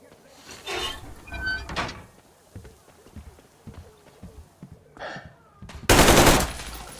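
Game gunfire in Metro Exodus: a short burst early on, a few scattered shots after it, and a loud sustained blast of automatic fire near the end, all mixed with talk between characters.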